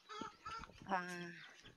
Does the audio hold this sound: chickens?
yes